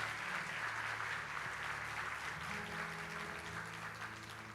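Sustained applause from a church congregation during a sermon, steady and moderately loud, with a faint hum of sound beneath the clapping that slowly eases.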